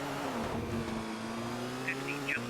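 A rally car engine in Colin McRae Rally 2.0 drones and shifts pitch, a steady mechanical whine with brief higher chirps near the end, no voices.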